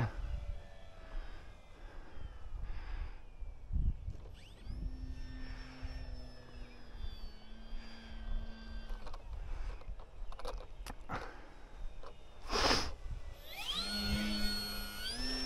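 An FMS Kingfisher RC model airplane flies on its maiden flight without AS3X stabilization, its electric motor whining steadily and shifting pitch as it passes, with throttle surges near the end over outdoor wind noise.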